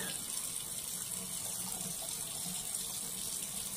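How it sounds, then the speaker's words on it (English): Tap water runs steadily into a sink while soap is rinsed off a face, a constant broadband splashing hiss at close range with no pauses across the whole stretch. "And then I rinse. Make sure you get all the soap off."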